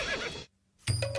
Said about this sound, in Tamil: திருப்புங்கள் குதிரையை.